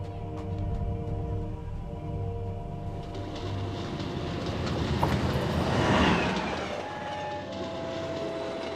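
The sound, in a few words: Magno train running, cartoon sound effect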